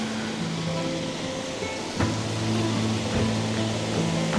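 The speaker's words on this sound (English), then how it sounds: "It's just water cascading from loads of different orifices, if that's the right word." Water cascading from many springs near Benidorm, a steady broadband rush and splash that swells slightly after a couple of seconds, with a faint low hum underneath and no voices.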